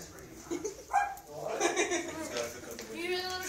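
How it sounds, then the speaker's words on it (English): A small chihuahua in Ocampo barks and yips in a few quick, faint bursts, mixed in with nearby talking. "You hear the little chihuahua?"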